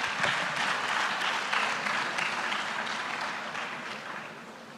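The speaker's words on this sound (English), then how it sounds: "Give them a round of applause." Audience applause at a legal practice management panel discussion, a dense steady clapping from a room of people that holds loud and gradually tapers over several seconds.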